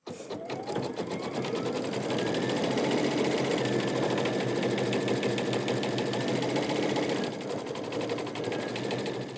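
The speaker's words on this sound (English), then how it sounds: "we're going to go ahead and change thread so that we embroider out the leaf veins" An embroidery machine stitches leaf veins onto a fall-leaves quilt block in the hoop, giving a loud, steady mechanical whir with a rapid needle rhythm that runs without a break and without any talk.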